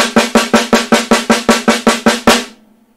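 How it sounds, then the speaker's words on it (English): Single stroke roll on a drum: about twelve evenly spaced, sharp strokes with a steady alternating rhythm and strong ringing body, played close and loud, ending abruptly with a short fading ring. "If I play the single stroke roll, then it sounds like this."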